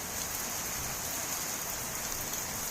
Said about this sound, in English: The rain has been coming down harder and harder.